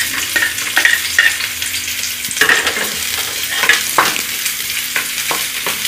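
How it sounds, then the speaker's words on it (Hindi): Onion frying in hot cooking oil hisses and crackles close by, with repeated scraping and stirring strokes at an uneven rhythm and no voices. "तेल गरम हो गया है, इसमें प्याज डाल देंगे।"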